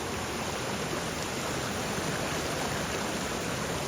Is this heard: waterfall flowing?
yes